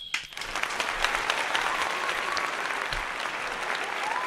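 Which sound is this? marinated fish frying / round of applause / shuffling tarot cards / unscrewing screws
round of applause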